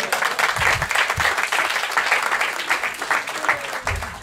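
An audience at a live stand-up comedy show claps, a dense, continuous burst of applause filling the room at close range with a few voices mixed in.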